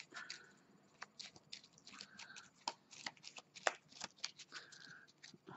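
Playing cards are shuffled and riffled close to the microphone, in quiet repeated bursts of flicking, papery pattering with small taps between them.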